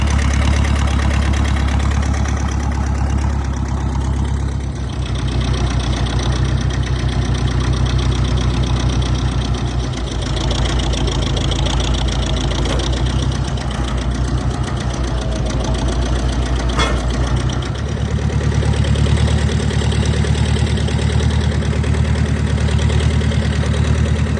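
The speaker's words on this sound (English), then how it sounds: "The engine will turn over" An old 1959 International 340 tractor engine runs continuously with a low, knocking chug, steady and close for a long stretch with slight shifts in tone.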